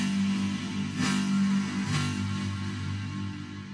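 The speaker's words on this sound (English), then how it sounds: "So it's kind of a strange pumping sound." A distorted white-noise bass patch with a gated reverb and pumping delay effect holds a low, buzzy drone, with hissy bursts of noise swelling and pulsing roughly once a second over it. It is fairly quiet and steady, with no voices.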